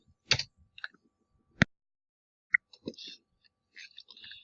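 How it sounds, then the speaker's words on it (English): Keys on a computer keyboard are pressed in a quiet room, a handful of sharp isolated clicks with one distinct firm press standing out among lighter taps. "we're going to go ahead and press enter on our keyboard"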